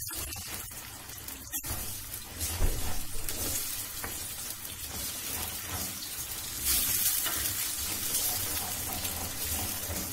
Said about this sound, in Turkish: Üç tane yumurta ilave ediyorum.